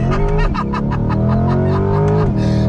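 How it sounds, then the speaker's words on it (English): A naturally aspirated V8 in a 2020 Chevy C8 Corvette Z51 revs hard under full throttle in first gear, a loud close growl with rising pitch that drops at a shift near the end. "Love the sound of that V8. It really comes full song when you're on throttle like that. You get that naturally aspirated V8 growl."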